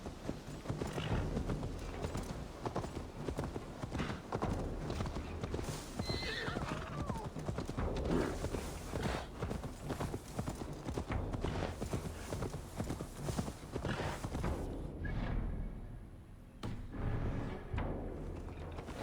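Hooves clop steadily on a horse in Assassin's Creed Valhalla, with a clear neigh partway through, loud and close throughout with little talk.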